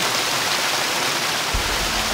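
A waterfall in the video game Gothic 2 roars as a steady, dense rush of falling water, continuous and fairly loud throughout with no voices.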